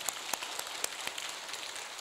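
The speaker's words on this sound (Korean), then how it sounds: "우리 하나님께 영광의 박수 올립시다" Church congregation applause, a continuous dense patter of many hands clapping with a few sharper individual claps standing out, steady and fairly close throughout.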